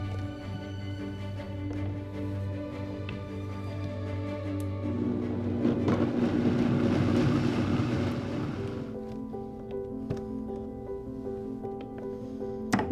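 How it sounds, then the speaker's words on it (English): An electric blender purees bean soup for a plant-based Florentine recipe, a loud steady motor whir that roughens and surges midway as the beans break down, then settles, with no talking. "All right, now we're going to blend this up."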